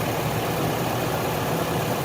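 A used car engine runs with a steady, dense, close rumble under light throttle, its noise even and continuous throughout with no voices.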